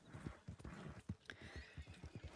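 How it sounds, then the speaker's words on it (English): A wild horse in the Red Dead Redemption 2 video game trots with a steady rhythmic clip-clop of hooves, with a brief soft whinny partway through, fairly faint overall. "there is also a wild horse over there"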